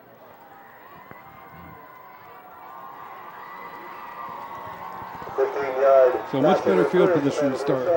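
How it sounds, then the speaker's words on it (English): A high school football crowd of students rises into loud cheering and shouting in the stands, the roar swelling near the end beneath a commentator's talk. "They're out there having a good time cheering on their team."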